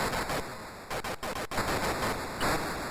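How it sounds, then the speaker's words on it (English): Vectrex vector-graphics video game explosions burst as loud noisy static crashes, several in quick succession with brief gaps, close and harsh, with no talking. "I love the explosions"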